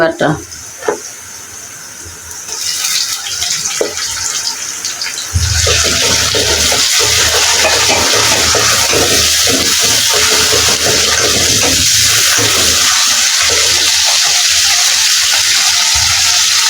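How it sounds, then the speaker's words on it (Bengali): Heavy rain pours outside a home kitchen: after a quieter start, a loud, steady, dense hiss sets in and holds to the end, with faint clatter underneath. "বাইরে অনেক বৃষ্টি হইতেছে"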